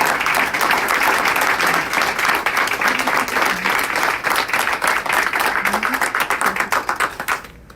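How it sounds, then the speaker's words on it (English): Audience applause at a food bank open house in Dover, a dense, steady round of clapping that fills the room for about seven seconds before tapering off. "I just want to give a round of applause for all of your hard work."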